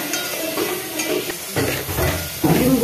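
Food being stir-fried in a pan sizzles and hisses up close, broken by scraping stirs and louder bursts as the food is turned, with no voices.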